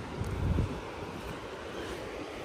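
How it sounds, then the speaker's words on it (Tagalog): Strong wind buffets the microphone in a loud low rumble, heaviest early on, then settling into a steady whooshing roar. "Ang hangin."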